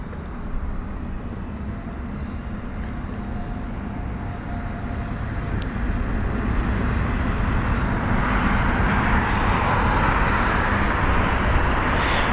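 An airliner comes in to land at London Heathrow. Its broad engine roar builds steadily and grows louder toward the end, heard from some distance with no talking.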